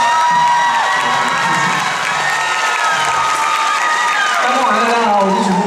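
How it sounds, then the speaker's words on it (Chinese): A concert crowd in Kaohsiung applauds and cheers for a singer, a loud, sustained wash of clapping with whoops and shouting voices mixed in, strongest near the end. "请互我一个掌声"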